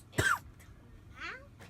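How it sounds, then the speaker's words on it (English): A man coughs once sharply, with a fainter throaty rasp following a second later, in a quiet room among dusty toy race cars. "Got a little coughing spell"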